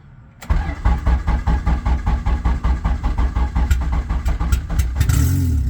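A K-swapped Honda Civic engine cranks and catches, then settles into a loud, close, lumpy idle with a pulsing rhythm, running alone without talk.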